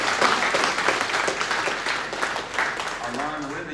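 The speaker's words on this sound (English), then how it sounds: "Let's give them a round of applause." Applause from an audience at a drivers' meeting for the Green Grand Prix at Watkins Glen, a steady wash of clapping throughout that fades slightly toward the end.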